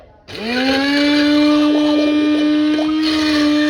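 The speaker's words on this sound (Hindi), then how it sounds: "अभी इसको मैं करने जा रही हूँ ग्राइंड" A kitchen mixer grinder loaded with pressure-cooked boiled spinach kicks on abruptly, rising fast into a loud, steady high motor whine that holds with slight wavering before easing near the end.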